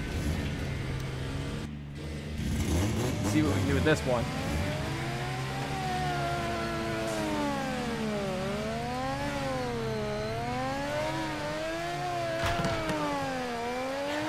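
A Mazda RX-7 engine in the Torque Drift game revs up and down in repeated rising and falling sweeps, steady and fairly loud, with someone talking over it.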